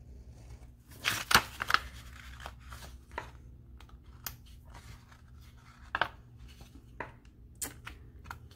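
Scissors snip through a planner sticker on a page, a handful of quiet, close, crisp cuts and rustles spaced irregularly over a faint background hum.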